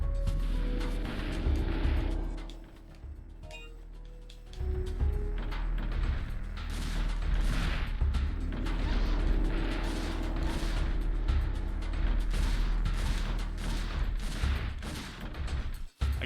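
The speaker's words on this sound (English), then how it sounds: "there's a lot of dino shooting in this one" Gunfire aimed at dinosaurs in Dino Crisis 2, heard as a dense, steady run of shots and blasts over a low rumble, with a short lull partway through before the firing resumes at full loudness.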